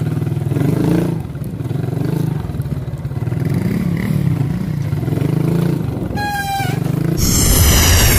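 Motorcycle riding along a road, with a steady mid-pitched engine drone and clatter throughout, near and loud, and a rising whine near the end.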